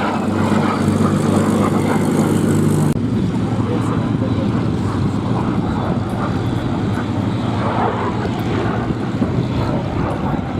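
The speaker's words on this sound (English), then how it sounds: "CL-13B Sabre Mark 6 single engine jet." A CL-13B Sabre Mark 6 single-engine jet at the Duxford Battle of Britain airshow gives a steady, loud, broad engine roar that holds for about ten seconds, with a low hum in the opening seconds.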